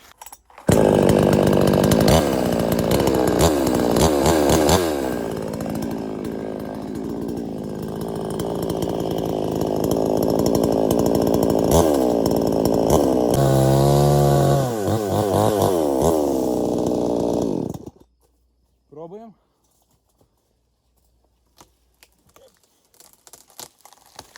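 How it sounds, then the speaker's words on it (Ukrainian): A chainsaw cuts down a dry apple tree in a garden, running loud and continuous for about eighteen seconds with revving and bogging as it bites, then cuts out, leaving faint scattered sounds. "І ось оця яблуня, вона вже досить суха. Я її теж зараз ріжу"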